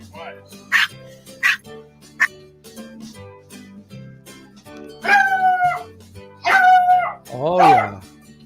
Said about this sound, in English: This is what I wanted my dog to sound like.